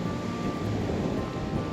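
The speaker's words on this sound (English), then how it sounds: "I have been very surprised at how windy it's been." Steady broadband wind with surf rolling in at an exposed, desolate coastal campsite, a constant roar with low rumbling gusts and no voices.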